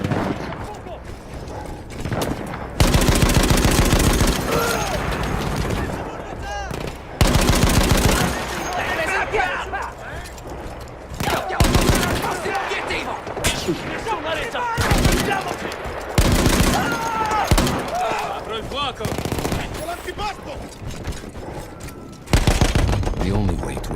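Bursts of machine-gun fire from a heavy gun in Battlefield 1 story mode, loud sustained volleys repeating in long strings separated by short pauses, with other battlefield noise between them.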